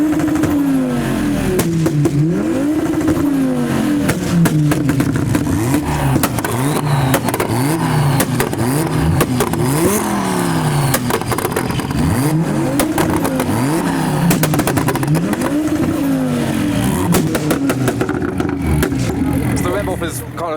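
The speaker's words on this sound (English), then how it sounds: "it seems like we've got a bit of a rev battle now" Modified boy racer cars face off in a street rev battle, engines repeatedly blipping and revving in rising and falling waves, loud and close over a crowd, with people talking throughout.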